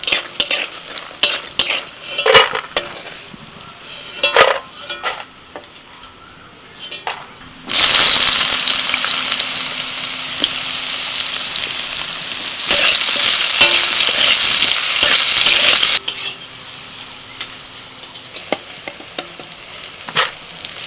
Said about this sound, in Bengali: কড়াইতে তেল দিয়ে প্রথমে কিছু ডালের বড়ি ভেজে নিচ্ছি।